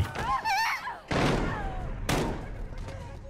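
A few sharp, loud gunshots in Call of Duty Modern Warfare, one near one second and another near two seconds, with some game chatter in between.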